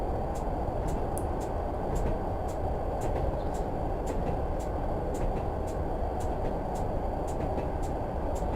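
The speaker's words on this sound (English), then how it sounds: "I'm going to put the train into first gear, which is the prototypical driving technique when you want to coast in a first generation DMU." A first-generation Class 101 diesel multiple unit coasts in first gear in a Train Simulator game, giving a steady, continuous low rumble of running gear with faint regular clicks of wheels passing rail joints, and no talk.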